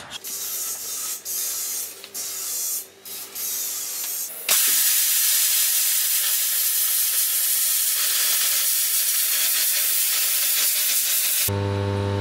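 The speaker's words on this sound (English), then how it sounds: "now I'm going to cut this in the steel plate" A steel plate being cut for a shoe sculpture: brief bursts of workshop noise, then a loud, steady hissing cut that runs unbroken for about seven seconds before stopping.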